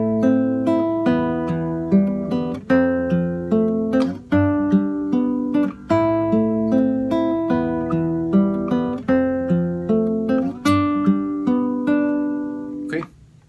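Guitar arpeggio accompaniment phrase from a song, picked across the sixth, fourth, third and second strings, repeating in a steady rhythm of ringing plucked notes, close and clear, with no voice.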